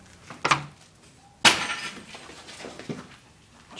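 Glass breaks inside a creepy house, one sharp shatter followed about a second later by a louder crash and the tinkle of falling shards, then a few softer knocks.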